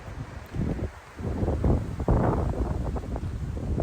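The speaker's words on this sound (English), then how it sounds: "Wind picked up, it was like 5 to 10 miles an hour." Gusty 5 to 10 mph wind at Pictured Rocks buffets the microphone in uneven rushes, with low rumbling bursts rising and falling and no voices.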